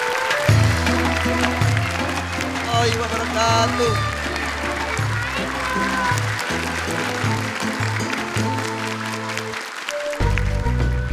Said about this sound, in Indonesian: Untuk itu boleh tepuk tangan.